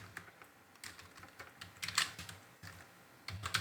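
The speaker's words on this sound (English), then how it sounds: "I'll write simple print statement" Someone types a print statement on a computer keyboard in VS Code on Windows. Close, quick, uneven key clicks patter steadily throughout with no talking.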